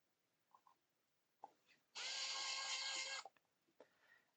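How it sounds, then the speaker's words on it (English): A small power screwdriver drives a screw into a part of an Agora Models SAS Willys Jeep scale model, one steady whirring burst of just over a second, close and clear, framed by faint clicks and handling taps. "And then I'm going to put them in with these BM screws."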